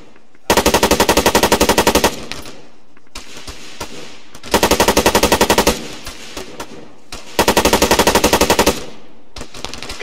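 Video game gunfire comes in three long, loud bursts of rapid automatic fire in quick rhythmic volleys. Brief gaps between the bursts hold scattered single shots and a lingering rumble.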